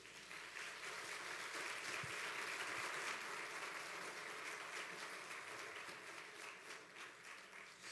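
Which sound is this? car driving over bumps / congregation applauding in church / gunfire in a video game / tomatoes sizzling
congregation applauding in church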